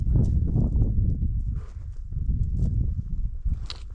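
Horses walk up a steep mountain trail in the Ordesa canyon of the Pyrenees, their hooves clip-clopping unevenly on rock close by. A faint voice is heard now and then.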